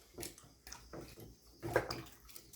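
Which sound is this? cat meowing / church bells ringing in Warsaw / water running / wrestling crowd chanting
water running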